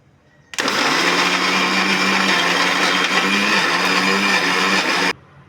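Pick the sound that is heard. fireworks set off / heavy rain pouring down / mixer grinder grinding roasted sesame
mixer grinder grinding roasted sesame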